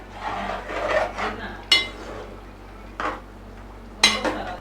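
A spoon scrapes and clatters against a metal pot while Portuguese-style chicken curry is stirred, with a few sharp knocks among the rubbing strokes, close and alone.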